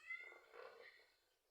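A cat gives one short, faint meow that rises and then trails off, heard alone with no talking.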